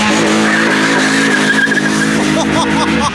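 A 2.0-litre Renault Clio RS at a drag race in Lesce spins its tyres to warm them up, giving a loud, sustained screech with engine roar throughout.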